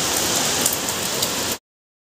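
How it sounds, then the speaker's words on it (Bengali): Heavy rain hammering down in a continuous hiss, loud and close, then cutting off abruptly into silence. "বৃষ্টির পরিমাণ প্রচণ্ড বৃষ্টি হচ্ছে, প্রচণ্ড, মানে রাস্তায় জল উঠে গেছে, এরকম বৃষ্টি।"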